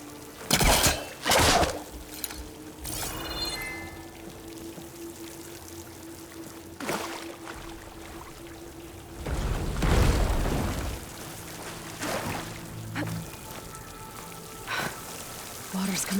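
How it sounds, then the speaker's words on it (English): Water pouring from a vent in the video game Horizon Forbidden West, a rushing splash that swells near the middle amid scattered game sounds and brief bursts, with no one talking. "Water's coming from that vent."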